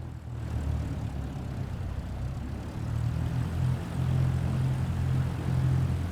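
A propeller airplane taxiing on the ground in Microsoft Flight Simulator 2024, its engine droning steadily and rising slightly in strength partway through, with no talk.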